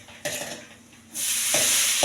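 Flattened rice (poha) being toasted in a pan for payasam, with short bursts of dry stirring and scraping against a steady sizzle that grows louder midway, close up and with no talking.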